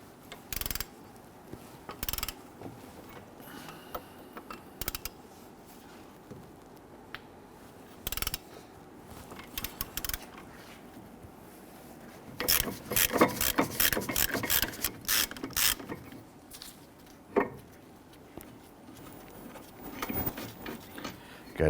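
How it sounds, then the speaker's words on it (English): A ratchet wrench loosens the 21mm caliper bracket bolts on the front brake of a 2011-2021 Jeep Grand Cherokee, with sparse clicks early on, then a dense run of rapid, close ratcheting clicks in bursts. "We're going to remove our brake caliper bracket. There are two bolts, 21mm, one up top, one on the bottom."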